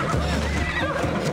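A horse in Assassin's Creed Odyssey lets out a loud, close whinny, a shaky rising-and-falling neigh over a dense rumble of game noise, with hoof clops mixed in.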